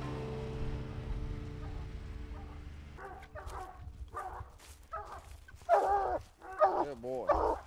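Coonhounds bark and bawl at a treed raccoon in a run of loud, rhythmic baying that grows closer and louder toward the end, following a stretch of steady background hum.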